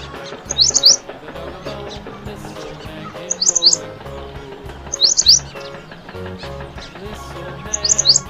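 A bulbul chirps in short, bright bursts, four clusters spaced a few seconds apart, loud and close over a busy background of other sound.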